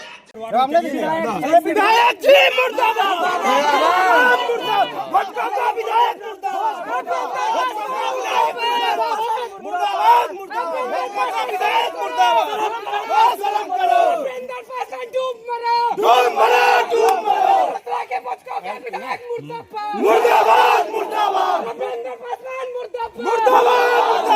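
A large, agitated crowd of young people shouts and chants in protest against a local legislator in his own constituency, a dense, continuous roar of overlapping yells and jeers with occasional louder cries, close and loud throughout.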